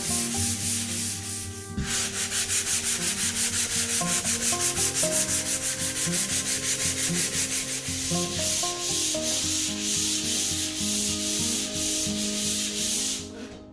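Rhythmic back-and-forth scraping of hand sanding on a drywall wall being floated over texture, steady close strokes continuing without pause after a brief gap at the start.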